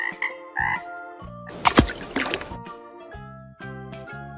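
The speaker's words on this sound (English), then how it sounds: "Frog." A frog croaks in a few deep, throaty calls separated by short pauses, with a wet splashy burst in the middle, heard clearly and alone.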